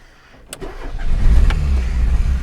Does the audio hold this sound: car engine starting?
yes